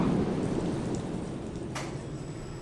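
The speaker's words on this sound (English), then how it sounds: "Sound of water." Water rushes and splashes steadily around a roller coaster ride in the NoLimits 2 simulation game, a dense hiss like heavy rain that fades slightly over a few seconds, with no talk.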